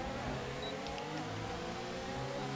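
F1 car engine in the F1 2019 racing game, Bahrain race, droning steadily at high revs with a failed gearbox that won't change gear, a continuous loud buzz without shifts.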